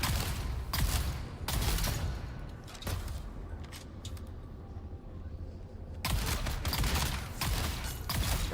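Turret firing in the video game Dungeon Defenders, a series of bursts of rapid shots at moderate volume, separated by quieter gaps with no talk.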